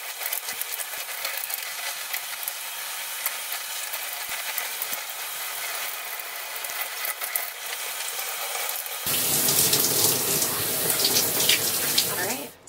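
Running water from a shower or tap rinses a product out of mixed curly hair. A steady hiss is present at first, then the water grows louder and fuller near the end as it splashes closer, with no talking.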